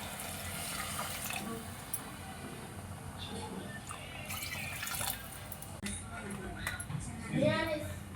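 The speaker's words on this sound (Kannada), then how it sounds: "ಇವಾಗೆ ಸ್ವಲ್ಪ ನೀರು ಹಾಕ್ಕೊತೀನಿ" Water is poured into a pot of chicken gravy, making a soft, quiet splashing and trickling over a low background, with voices faintly present.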